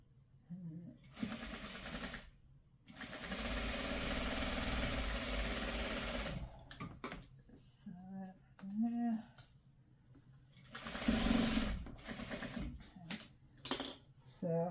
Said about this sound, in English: so then we're going to sew another side